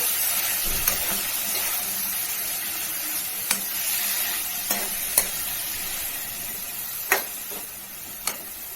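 Mint and coriander leaves frying in oil in a pan for chutney, a steady close hiss with occasional sharp clicks from stirring.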